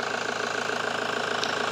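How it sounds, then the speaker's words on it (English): A vehicle engine idles steadily with a low, even, slightly ticking hum, close and continuous with no voices over it. "So that's with this vehicle just idling."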